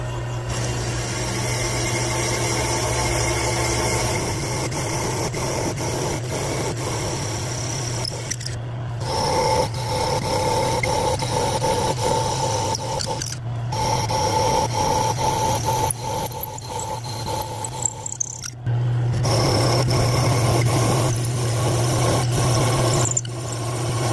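A power drill whines and grinds continuously in several long bursts, cutting small-block Chevy engine valve guides, stopping briefly between runs, close and fairly loud.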